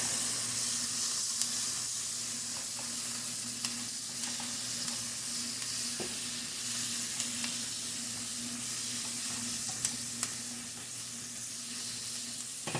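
Hash browns sizzle steadily in a pan as a spatula breaks them up, with a constant frying hiss and soft scattered scrapes and clicks throughout, no voices present.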